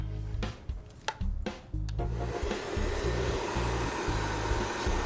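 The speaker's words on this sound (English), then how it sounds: "I'm going to use my brush and follow it with my blow dryer" Handheld blow dryer drying hair as a brush follows it, a steady whooshing roar that runs loud and continuous, broken early on by brief pauses and repositioning.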